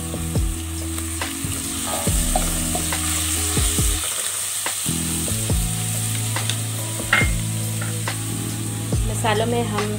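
Garlic sizzling in warmed olive oil in a pan for khara keema, a constant close crackle and hiss with intermittent scraping and stirring knocks, occasional louder clatter, no voices.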